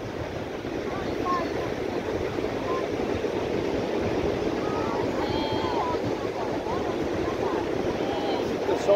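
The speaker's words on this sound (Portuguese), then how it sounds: "Fica só o barulho do mar." Sea waves washing onto the shore at a beach by a fort corner on the coast, a steady, broad rush of surf that continues without a break and stays fairly close throughout.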